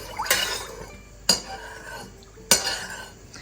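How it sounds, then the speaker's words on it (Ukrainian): Utensil stirring an egg filling mixture with salt and lemon juice in a bowl, three sharp clinks against the dish spaced about a second apart, with soft scraping in between, close and fairly quiet. "перемішуємо"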